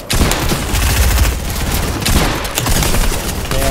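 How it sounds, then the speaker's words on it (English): Rapid P90 gunfire from the video game Fortnite: a loud, continuous fusillade of closely spaced shots that runs without a break for a few seconds. "Damn, all those P90 shots missed?"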